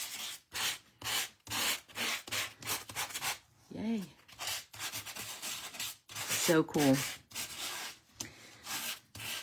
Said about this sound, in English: Just sand it off.